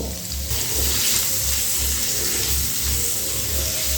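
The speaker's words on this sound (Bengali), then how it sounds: "তুলে নেবার পর ওই তেলের মধ্যে ভেজে নিচ্ছি আলু" Potatoes frying in hot oil, seasoned with salt and turmeric, for a cauliflower and pabda fish curry: a steady, loud, close sizzle and crackle continuing throughout without speech.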